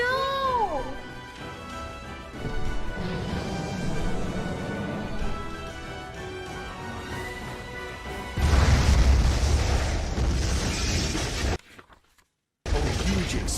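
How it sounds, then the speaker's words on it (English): A huge explosion tears through an attic in an animated story, a loud booming crash with shattering debris that fills the space for several seconds before a brief silence, following a stretch of dramatic music and effects. "A huge explosion from the impact drowned out everything else in the attic."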